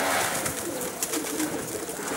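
Pigeons cooing in a loft in Outzidika, Karditsa, soft low coos under a constant airy background hiss.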